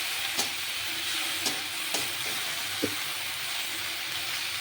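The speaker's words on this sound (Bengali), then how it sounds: "এই ভেন্ডিটা একটু হতে সময় লাগবে, ভাজা হতে।" Okra (bhindi) stir-fries in a pan for egg bhurji, a constant hissing sizzle broken by a few distinct scrapes and clicks of a spatula, close and unaccompanied by speech.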